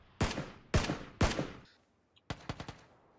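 Gunshots ring out in PUBG, three loud, spaced booming shots followed after a pause by a quicker burst of four or five fainter rapid shots.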